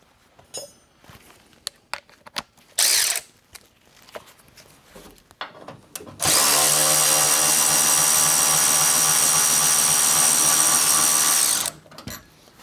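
A power tool, likely an impact driver or drill, spins off an 18 mm bolt on a lifted Jeep, one loud steady whir lasting about five seconds after some quieter shop clicks and handling noises, with a short burst near the start.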